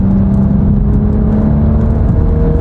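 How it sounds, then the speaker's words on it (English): A brand-new car costing $56,000 accelerates hard toward 100 mph. Its engine drones loud and steady with a strong low hum, and the whir holds throughout with no one speaking. "listen to that engine. What a sweet sound"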